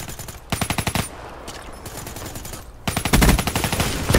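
Automatic gunfire from Black Ops 3 comes in two loud, close rapid bursts, the second longer and heavier, with quieter game noise between them.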